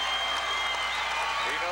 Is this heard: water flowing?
no